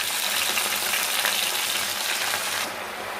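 Cleaned gongura (sorrel) leaves hit hot oil in a pan, giving a loud, steady broadband sizzle that holds for about three seconds before easing slightly near the end, with no voices.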